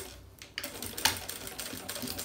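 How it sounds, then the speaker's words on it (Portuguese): A sewing machine stitches along the zipper edge of a fabric notebook cover in short, close bursts of rapid mechanical clatter, with brief pauses between them. "passo a costura aqui nessa beiradinha aqui do meu zíper"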